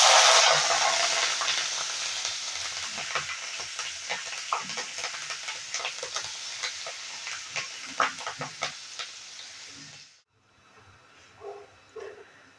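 Green chillies and curry leaves spit and crackle in hot oil with asafoetida and turmeric during a tempering. It starts as a loud close sizzle with sharp pops, fades gradually and cuts off near the end, and a few faint clinks follow. No one speaks.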